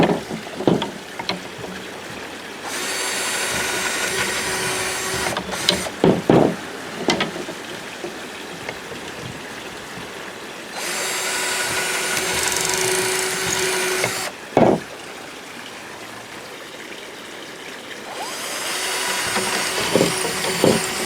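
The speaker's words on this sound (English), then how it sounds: "So we're going to go ahead and drill these holes out." A power drill whirs in three sustained bursts, each running several seconds, with quieter handling clatter and clicks in the gaps between them.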